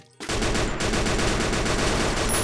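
Dense, continuous automatic gunfire in the mobile battle-royale game Free Fire, a rapid rhythmic stream of loud shots that starts abruptly after a brief quiet moment and keeps hammering steadily to the end.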